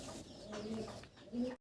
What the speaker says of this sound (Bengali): আমরা আরো একটা চমৎকার কবুতর দেখাচ্ছি আপনাদেরকে